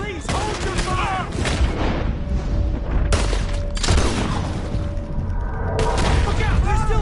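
Gunfire from the video game Red Dead Redemption II, with repeated loud shots in a dense volley alongside shouting voices and talk.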